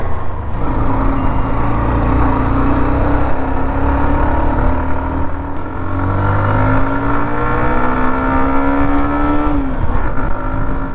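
A Hero Xtreme 125R 125 cc motorcycle engine runs steadily while being ridden, with rising and falling pitch as it accelerates and shifts through gears, loud and close throughout with no talking.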